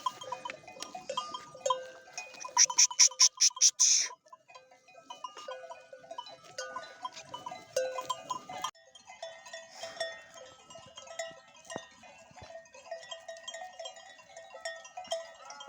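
A flock of sheep and goats bleats in a Turkish pasture, with a dense, overlapping chorus of calls. One loud burst comes near the start, then steady mid-level bleating continues throughout, with no talking.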